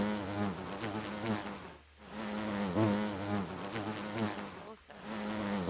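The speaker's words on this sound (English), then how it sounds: "The buzzing gets really, really loud as you guys are discussing this." A giant bee buzzes loudly and continuously near its hive in the Dobbers: Quest for the Key tabletop adventure. The drone is dense and steady and swells and dips twice, briefly fading near the middle and again near the end.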